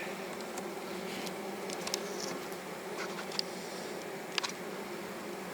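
Bees buzz steadily around beehive frames fitted with strips of wax foundation at a log-hive apiary, a dense continuous drone close by, with a few louder individual bees passing near and light tapping, no talk.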